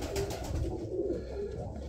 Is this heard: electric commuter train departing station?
no